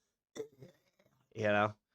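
A short, gravelly throat clearing close to the microphone, followed by a brief voiced burst and the start of another sound.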